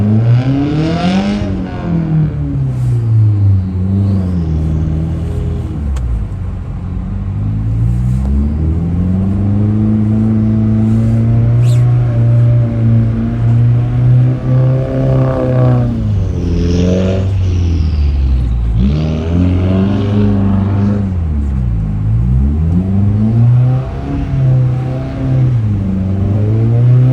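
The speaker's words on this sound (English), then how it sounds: "Let me drift around you." A car drifting at a school car meet, its engine loud and near, revving repeatedly up and down in long rising and falling sweeps with a rumbling undertone throughout.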